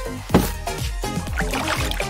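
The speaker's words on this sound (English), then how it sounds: "Let's get a large glass container filled with water." Water pouring and splashing into a large glass container, a loud, close gurgling fill with sloshing surges lasting a couple of seconds.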